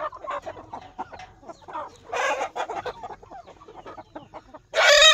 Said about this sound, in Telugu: పెట్టెలు పుంజులు అన్నీ దీంట్లోనే ఉన్నాయి